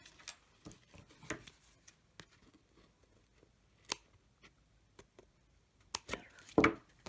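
Scissors trim paper cardstock for a handmade flip card, giving a scattered series of short, crisp snips at close range with brief quiet gaps between cuts.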